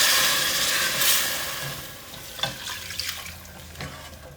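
Beef bouillon poured into a hot pan to deglaze it, a rushing pour fading after a second or two into light sizzling and scattered small pops and clicks.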